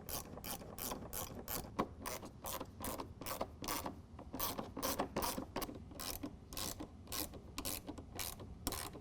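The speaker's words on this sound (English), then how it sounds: "we're going to go ahead and tighten all of these 3 down for right now" Rapid ratchet wrench clicking while bolts are tightened down on a DECKED truck bed storage system, a steady run of sharp, close, evenly spaced clicks with no talk.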